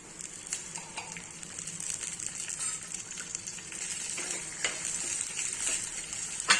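Curry leaves frying in hot oil in a pan with green chillies, a dense crackling sizzle with sharp pops and spits, steady and close, building slightly toward the end.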